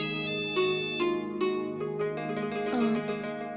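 A phone rings indoors with a bright, repeating electronic melody of chiming tones, close and alone with no talk over it.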